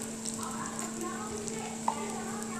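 Finely chopped ginger and onion cook in ghee in a pan, giving a soft, steady sizzle with light stirring taps, faint and close, under a quiet background voice.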